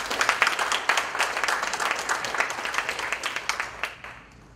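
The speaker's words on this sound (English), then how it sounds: "Why don't we welcome with a round of applause" An audience at a hydrogen symposium gives a round of applause to welcome a speaker, a burst of many hands clapping that stays lively for a few seconds, then thins into scattered claps and fades out.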